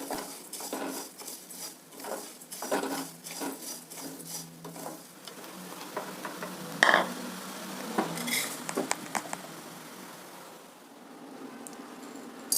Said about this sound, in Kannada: ಎಣ್ಣೆ ಹಾಕಲ್ಲ ಡ್ರೈ ಫ್ರೈ ಮಾಡ್ಕೊಳ್ತೀವಿ